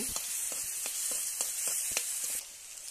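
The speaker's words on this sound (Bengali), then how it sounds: "এবার পেঁয়াজ কুচানাগুলো দিয়ে দিচ্ছি। দেখো বন্ধুরা, রসুনটা দিয়ে দিলাম, রসুনটা দিয়ে নাড়ছি।" Chopped onion and garlic fry in a pan, a loud continuous sizzle close by, with a spatula stirring in repeated soft scrapes throughout.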